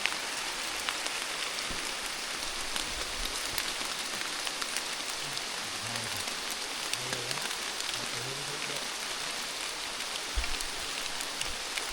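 Steady rain falls with a dense, constant hiss and patter, occasional louder drops, and faint low sounds in the background.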